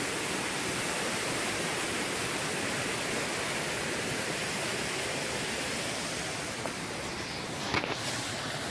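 Small mini waterfalls in a forest stream pour with a steady, dense rushing hiss, constant and fairly close, with a couple of faint knocks near the end.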